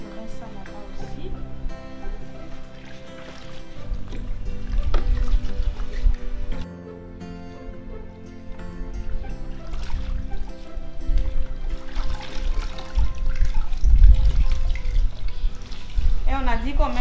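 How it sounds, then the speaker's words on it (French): Clothes get rinsed under running water, a steady splashing wash that swells and sloshes as the fabric is moved about, with some background music and a few voices under it. "Je rince ça là-bas aussi."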